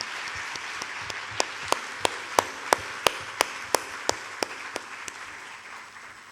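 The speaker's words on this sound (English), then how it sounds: "join me in giving them a thunderous round of applause" Audience applause at a hospital anniversary celebration in Fiji, heard as a soft bed of clapping under a run of evenly spaced sharp claps that swell and then fade away.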